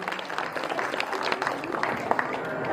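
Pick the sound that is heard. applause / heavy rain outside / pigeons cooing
applause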